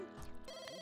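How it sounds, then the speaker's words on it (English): A telephone rings in The Sims 2, a quiet, brief electronic trill sitting faintly in the game's background mix. "Now the phone's ringing."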